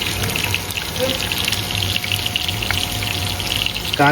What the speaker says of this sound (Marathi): खोबऱ्या तेल घायलें आनी आतां घाता कांदो